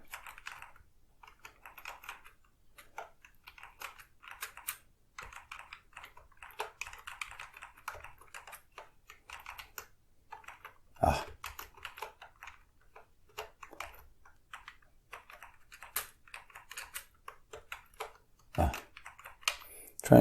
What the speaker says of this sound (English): Trying to type too fast.